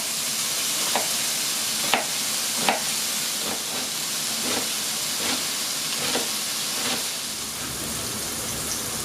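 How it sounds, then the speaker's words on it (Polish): Sausage pieces frying in a hot, deep pan as a steady broadband sizzle and hiss, with a few sharp pops and spatters breaking through at irregular moments; no voices. "Kiełbasa nasza się podsmaża"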